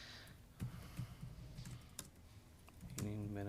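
Keys on a computer keyboard clack in irregular bursts during a committee meeting, faint and close, with a person starting to talk near the end.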